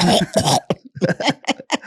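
A string of rough, hacking coughs in quick succession, close and loud, with short gaps between bursts.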